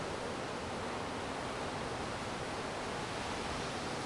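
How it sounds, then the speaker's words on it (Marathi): Sea waves at Malvan beach in the early morning give a steady, even hiss of surf, faint and distant, unbroken and without voices. "काय लाटांचा आवाज आहे सकाळ सकाळी"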